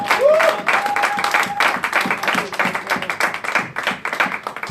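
A church congregation bursts into applause and cheering for God, dense continuous clapping from a large crowd with voices and whistles mixed in, loud and close throughout.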